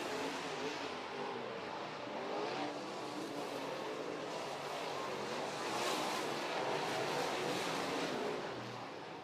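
A modified race car, number 2J, drives at East Bay's winter racing event, a continuous distant engine roar rising and falling slightly as it circles the track, fairly faint and without talk.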